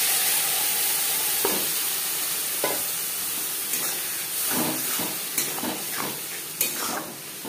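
Spice paste sizzling in a pan of frying onions for a Bengali katla kalia fish curry, a steady close hiss broken by intermittent scraping stirs and spatters, with no talking.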